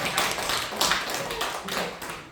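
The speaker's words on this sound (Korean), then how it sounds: "박수를 좀 쳐주십시오." A church congregation applauding during a Sunday service, a fairly quiet, continuous patter of many hands clapping with occasional slightly stronger swells, heard from a distance.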